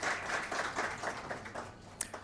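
An audience claps at a Rabi-ul-Awwal religious program, a brief moderate round of rhythmic hand clapping with one sharper clap near the end and no talk.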